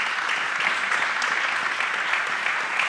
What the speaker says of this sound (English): not before I hear your applause to a perfect panel